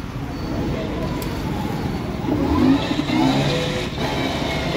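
A small electric rickshaw hums and whines as it moves forward, its motor pitch rising briefly midway, with steady road noise and faint voices nearby.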